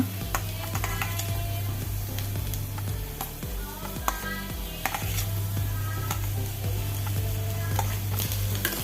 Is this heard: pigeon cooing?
no